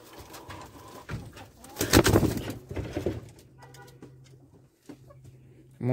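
Soft, low cooing of racing pigeons in a loft, a few bursts rising and fading, with some shuffling and a faint voice in the background.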